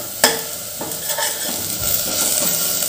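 Dhana-jira powder, turmeric and salt for Khandeshi udad dal sauté in a pan over low heat, giving a soft continuous sizzle with a few clinks and stirring scrapes close by.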